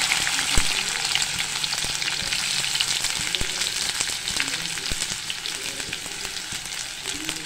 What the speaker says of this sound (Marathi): आपण आता कांदा टाकतोय फोडणीला